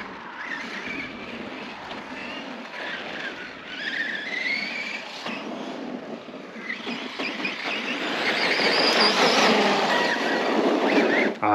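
A Scorpion XXL 6S RC car on a race circuit, its motor whining and rising as it accelerates, with squealing tones and rough surface noise that grow louder toward the end.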